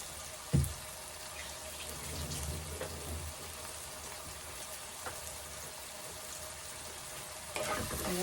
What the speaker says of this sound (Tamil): நல்லா வந்து ஆனியன் வந்து நல்லா ஃப்ரை ஆகணும்.